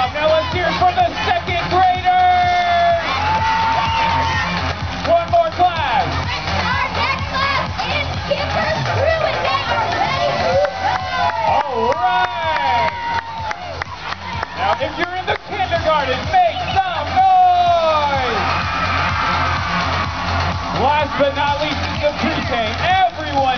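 Parents in a crowd cheer and shout for second graders at an outdoor school fun run. The noise is loud and continuous, with children's voices and cheers mixed into the din and talk throughout.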